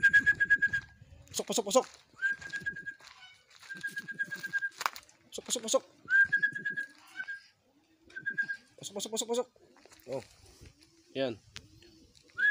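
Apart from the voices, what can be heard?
racing pigeons cooing on return to loft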